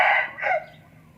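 A Burmese fighting rooster lets out a single short, close, loud crow that breaks into two rising bursts before fading quickly.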